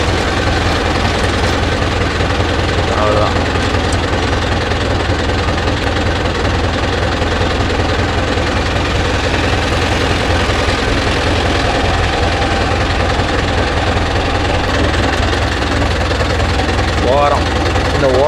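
Mahindra tractor engine chugging steadily and loudly as it reverses in a field, a continuous heavy rumble with someone talking over it.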